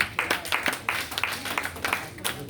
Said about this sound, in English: You need to clap for DNG.